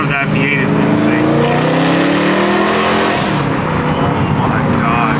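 A BMW E92 V8 revving hard, close and loud, its pitch sweeping upward in a long screaming climb before easing off, with a voice talking over the engine.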